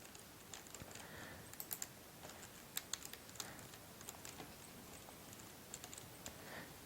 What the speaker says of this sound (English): you have an awesome keyboard